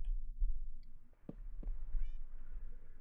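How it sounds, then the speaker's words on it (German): Cats meow in the video game Minecraft, two or three short, fairly quiet mews over a low background hum, with no talking. "hallo Katzen"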